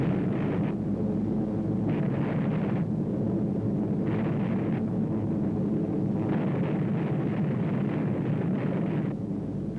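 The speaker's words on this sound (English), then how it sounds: "the Americans improvised new weapons, fragmentation bombs attached to parachutes" Parachute-dropped fragmentation bombs explode in a wartime barrage, heavy rumbling blasts that recur in uneven bursts over a constant low roar, loud and sustained throughout.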